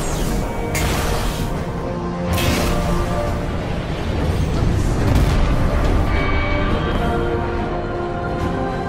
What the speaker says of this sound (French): L'explosion a ouvert quelques cellules en plus.